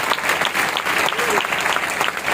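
A church congregation bursts into lively applause during a sermon, dense sustained clapping close and loud, with voices faintly mixed underneath.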